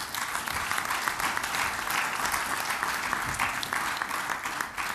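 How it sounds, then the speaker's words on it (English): An audience at a formal event bursts into sustained applause, a dense even clapping that fills the room throughout. "Please, can you give him a round of applause?"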